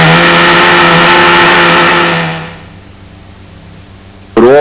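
Model B-25 airplane engine running on fuel with extra oil mixed in: a loud, steady high-pitched buzzing drone that winds down and drops to a low idle, then surges back up at the very end.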